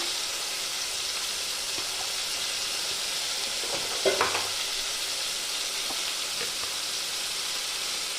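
Onions fry in oil with ginger paste for an egg and cauliflower curry, giving a steady close sizzle and hiss with a brief burst of stirring partway through.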